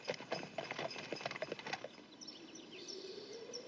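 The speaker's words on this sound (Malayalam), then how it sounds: "ബാർണി കുതിരയെ കളപ്പുരയിലേക്ക് കൊണ്ടുപോയി" A horse's hooves clip-clop in a quick, faint rhythm as it is led back from a cabin to the barn, then fade away, leaving soft bird chirps.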